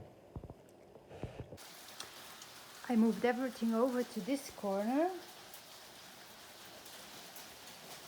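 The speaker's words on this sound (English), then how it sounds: "it's just hailing right now. See, that's not just rain, that's hail." Hail falling outside during a weird spell of weather, a steady soft patter like heavy rain on a surface that runs under nearby talking throughout.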